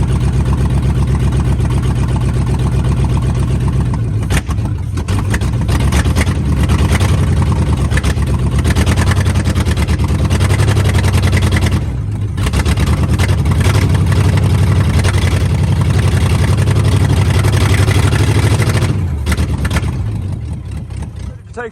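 A 1941 Ford COE truck with a flathead V8, just freed after 60-plus years of sitting, runs and pulls away with a loud, steady, low engine rumble that dips briefly midway, while people talk over it.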